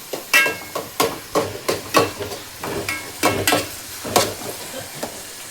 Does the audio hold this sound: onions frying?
yes